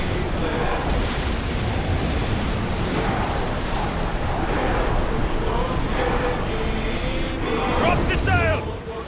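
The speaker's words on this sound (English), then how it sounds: "Whoa! Feel that wind!" Steady roaring wind and rushing sea while sailing a ship in Assassin's Creed Odyssey, a continuous broad whoosh throughout with faint game sounds rising near the end.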